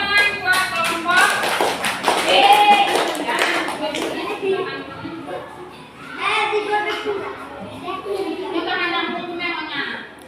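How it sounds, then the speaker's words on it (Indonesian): A small group of students claps their hands after a cleaning task, the claps mixed under ongoing talk and children's voices for much of the stretch. "Tepuk tangan buat kelompok."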